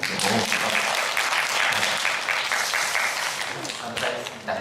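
Church congregation applauding during a Sunday worship service, a loud, sustained burst of clapping that holds steady throughout, with some voices mixed underneath.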